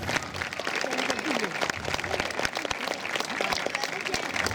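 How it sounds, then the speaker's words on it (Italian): An audience applauds a folk group from the Sant'Isidoro association of Samassi at a folklore festival and memorial event, dense steady clapping sustained throughout at close range. "Applauso forte all'associazione Sant'Isidoro di Samassi"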